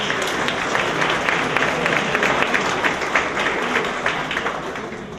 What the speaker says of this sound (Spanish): Aplauso para el doctor.